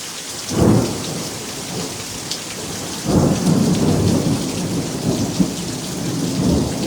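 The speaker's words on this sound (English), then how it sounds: "A mean storm right here, folks. This thing means business." Heavy rain from a severe night thunderstorm pours continuously while thunder rumbles twice, a low roll near the start and another louder, longer rumble that follows.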